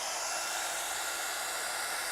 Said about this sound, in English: So I'm going to bring my heat tool in again, and we're going to set this.